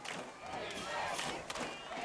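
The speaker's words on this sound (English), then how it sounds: "This crowd is pumped up." A high school football crowd cheers and roars continuously from the stands, loud and dense, with a shout rising over the din.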